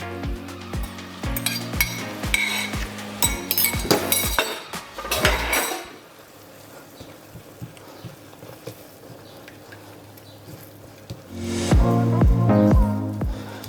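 Four eggs go into a pan of sautéed tomatoes and greens, with repeated clinks and knocks of cracking and utensils against the pan, a stretch of quieter sizzling, then more clattering near the end.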